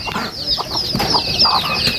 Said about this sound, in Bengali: এই যে দেখেন মালয়েশিয়ান মুরগি এগুলা আমার খুব ভালো লাগতেছে